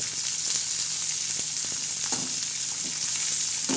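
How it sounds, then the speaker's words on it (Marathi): Tomatoes, onion and curry leaves frying in a pan for sprouted-bean usal, a steady close sizzle with occasional scrapes and knocks of a spoon being stirred through, no voices. "त्याच्यानंतर टाकणार आहे टमाटे आता हे असे चांगले आपण हलवून देणार आहोत"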